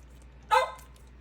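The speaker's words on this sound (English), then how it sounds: "Don't mind the dogs, they want some too." A dog gives a single short, sharp bark close by in a home kitchen during cooking, with quiet room tone before and after.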